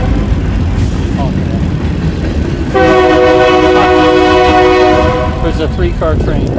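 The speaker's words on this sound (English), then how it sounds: "There's a 3-car train, that's funny." A three-car train passes with a loud, sustained multi-tone horn blast held for about three seconds over steady rumble and wind noise, with brief voices before and after.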